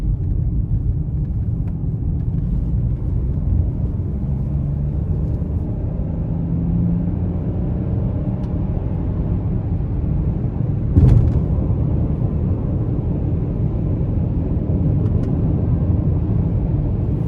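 Inside a 2024 Ford Bronco Sport Heritage with its 1.5-litre turbo three-cylinder, a steady low engine and road rumble fills the cabin while it accelerates onto an interstate, with no talking.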